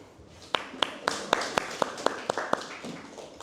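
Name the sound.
applause in class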